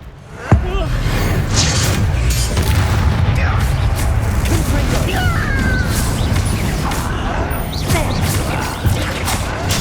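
The Bombarda spell explodes in Hogwarts Legacy: a sharp blast opens a long, dense stretch of rumbling booms, crashes and debris noise that stays loud throughout.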